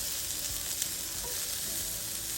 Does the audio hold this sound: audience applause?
no